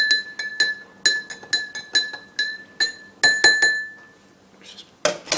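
A metal spoon clinks against a drinking glass while stirring food coloring into it, about a dozen sharp, close, ringing taps in an uneven rhythm, ending with a brief louder scrape and clatter, with no talking.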